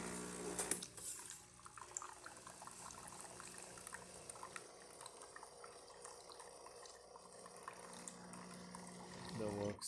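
Hot water runs from the spout of a Breville Barista espresso machine during a service and tune-up, a steady hissing, splashing stream that starts after a brief clatter and continues with small clinks and drips.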